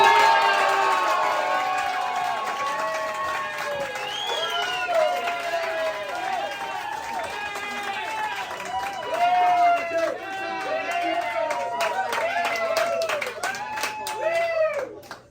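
A graduation show audience of children and adults claps, cheers and shouts excitedly, a lively crowd sound with many high voices calling out together over continuous applause.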